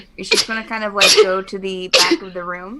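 A single sharp human sneeze bursts out amid a tabletop role-playing session, quickly followed by ongoing talk from a nearby speaker.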